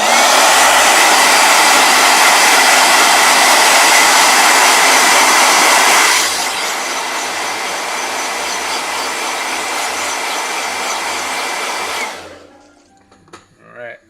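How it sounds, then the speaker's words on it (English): A blow dryer roars loudly and steadily nearby, drops to a softer setting partway through, then winds down and shuts off near the end. "another blow dryer"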